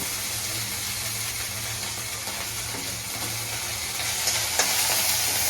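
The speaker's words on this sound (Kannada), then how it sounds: "1 ಸ್ಪೂನ್ ಅಷ್ಟು ಶುಂಠಿ ಬೆಳ್ಳುಳ್ಳಿ ಪೇಸ್ಟ್ ಹಾಕೊಂಡು ಮಿಕ್ಸ್ ಮಾಡ್ಕೊಳ್ರಿ" Ginger garlic paste fries and is stirred in a hot pan for mushroom palav, giving a steady loud sizzle over a low hum, with faint spoon scrapes and a slight rise in intensity toward the end.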